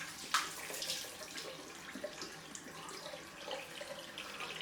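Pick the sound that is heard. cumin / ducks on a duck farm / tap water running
tap water running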